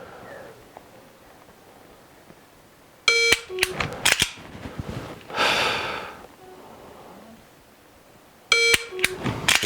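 Crisp dry-fire trigger clicks on a pistol fitted with an enhanced trigger, paired with sharp electronic shot-timer beeps, arriving in two loud close bursts separated by quieter breathing and a faint hiss.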